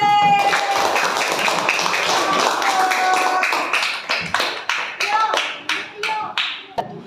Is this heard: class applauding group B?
yes